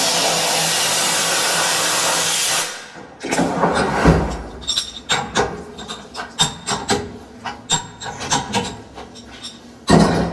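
A CNC machine cutting 3-inch trailer lift blocks: a steady loud milling roar for the first few seconds, then stopping into a run of sharp knocks, scrapes and rattles of parts being handled nearby.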